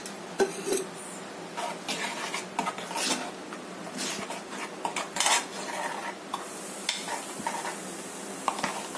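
Oats omelette batter cooks in an oiled pan amid a soft sizzle, punctuated by frequent clinks and scrapes of a spoon or spatula against the metal, all fairly close.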